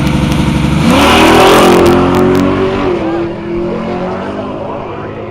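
A Chevrolet Nova drag car launches hard onto its rear bumper, its engine roaring loud and close with a rising rev that then settles into a steady high drone.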